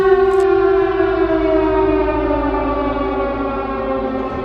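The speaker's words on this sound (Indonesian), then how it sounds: "Tiba-tiba ada suara sirine" A loud civil defense siren in a horror film wails, its tone gliding slowly downward as it drones on, with no voices.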